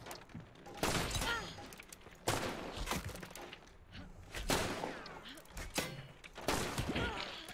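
Gunfire in the video game Hunt comes in several loud, booming shots and short bursts spread through the stretch, with players' voices talking over the action.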